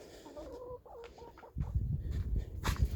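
Backyard chickens, hens first mistaken for two roosters, cluck and make short throaty calls up close, followed by a louder burst of rustling and scuffling movement.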